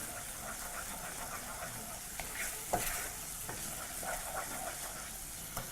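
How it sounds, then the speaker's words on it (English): Rajma masala frying over medium to high heat while being stirred constantly in a pan, a soft continuous sizzle with occasional spatula scrapes and taps, fairly quiet, no talking. "Proceed to cook at medium to high heat, constantly mixing through."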